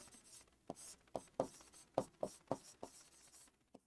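A pen writes out a math solution on paper, making a quiet series of short, scratchy strokes in an irregular rhythm, close by and alone.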